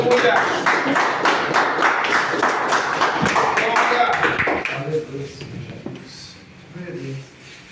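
A church congregation claps in praise during a service, fairly rapid rhythmic group clapping for about five seconds that then stops, leaving quieter room noise with voices.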